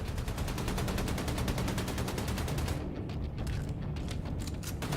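Sustained rapid gunfire from the shooter game Wolfenstein 2, a fast even rhythm of loud shots that continues, then turns choppier and thinner toward the end.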